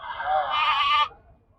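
A single goat bleats loudly and close by at a goat and sheep market in Chillakallu, one wavering call lasting about a second before fading into quiet background.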